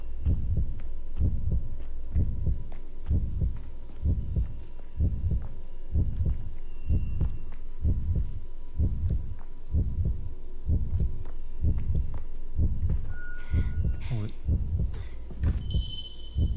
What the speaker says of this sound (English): The bloody screen thumping heartbeat is a little obnoxious at times.